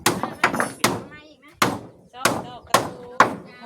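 Rhythmic pounding, with about eight sharp hammer strikes landing in an uneven beat, loud and close, each dying away quickly before the next.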